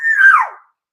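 A single short, high, squealing yelp from a human voice mimicking a toy puppy's bark, loud and close, falling off within about half a second.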